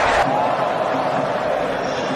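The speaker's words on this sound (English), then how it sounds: "Fully engaged crowd here" Broad, sustained roar of a cricket crowd cheering in the grandstand during an India versus Australia Test match, steady and fairly loud after a brief sharper burst at the start.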